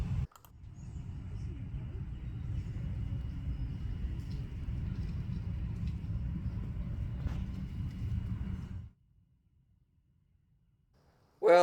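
A Gotrax Ultra electric scooter with small wheels is ridden around, giving a steady close rolling rumble with faint clicks that runs evenly for several seconds and then cuts off abruptly into near silence.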